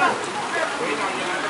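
Rain falling on fibreglass fishing boats tied together as a festival stage, a steady hiss of drops and spatter, loud and continuous with a voice talking over it.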